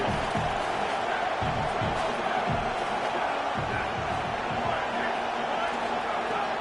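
Constant roar of a large crowd in an arena, steady and loud, with scattered thuds and shouts rising out of it.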